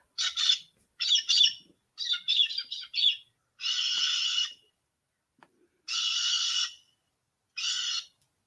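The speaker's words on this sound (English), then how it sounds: "a galah is a bird that squawks all the time" Harsh, loud squawks come from a galah cockatoo, first in quick choppy bursts and then as longer drawn-out screeches separated by pauses, close up with no voices.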